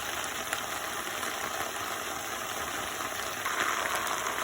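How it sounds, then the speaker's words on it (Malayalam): Chilli chicken with spring onion stirred in a hot pan, a steady hiss of sizzling under a constant stove or fan hum, even and moderately loud throughout, no talking. "നന്നായി ഇളക്കി യോജിപ്പിക്കാം. നമുക്ക് ബാക്കിയുള്ള സ്പ്രിംഗ് ഓണിയനോടെ ഇട്ട് കൊടുക്കാം."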